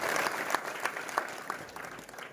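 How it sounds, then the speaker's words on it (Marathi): Brief applause from a small crowd at a temple gathering, a dense patter of clapping that gradually fades. "टाळ्या वाजून त्यांचंही स्वागत करा"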